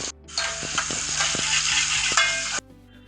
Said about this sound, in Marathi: आता आपण त्याच्यामध्ये मिरची आणि लसूण कापून घेतली ती टाकू आणि ती थोडीशी तेलामध्ये भाजून घ्यायची आहे